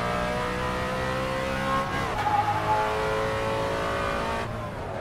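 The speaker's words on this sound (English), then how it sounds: "building that speed with a supercharged engine" A supercharged Ford Mustang Shelby GT350R engine pulls hard on track at Tsukuba circuit, a loud, steady rising drone of revs with a brief shift-like dip midway, close and continuous throughout.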